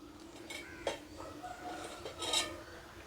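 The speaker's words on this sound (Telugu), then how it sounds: "బందోసులు వేసుకోవటానికి పోపు ప్యాన్ పెట్టుకొని" Clanks and clinks of a metal pan being set down on the stove before making dosas. There are two sharper knocks among lighter rattles, close and moderately loud.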